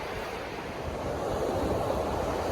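Moving water rushes along a hiking trail in Colorado in a steady, broad outdoor roar that swells slightly louder midway, with no voices.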